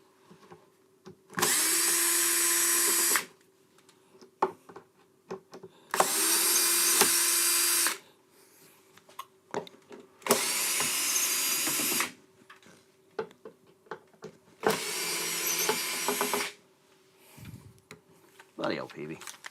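Power drill with a long bit backing angled screws out of the rear of a Peavey amp, four loud whirring bursts of about two seconds each with quiet handling and brief talk in the pauses.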